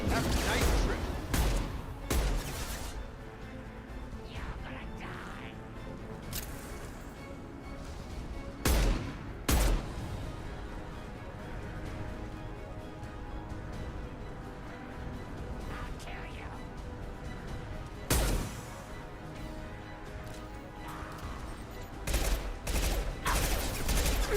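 Heavy gunfire and explosive blasts while shooting tanks in Mass Effect 2 combat, sharp loud bursts spaced irregularly over a rumbling battle bed, with a voice speaking at times.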